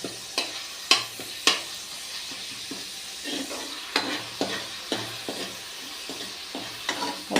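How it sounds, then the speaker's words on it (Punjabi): Chopped garlic fries in hot mustard oil as a tadka for a soya bean pod sabzi. A steady close sizzle runs throughout, broken by a series of sharp scraping spoon strokes against the pan, with no talking. "ਲਸਣ ਸਰੋਂ ਦੇ ਤੇਲ ਨਾਲ ਆਪਾਂ ਲਾਉਣੇ ਆ ਤੜਕਾ"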